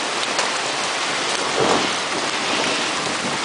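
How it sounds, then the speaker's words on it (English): Heavy rain in a summer storm in Western Washington pours steadily near an open window, with a soft roll of thunder swelling midway through the downpour. "Hear the thunder."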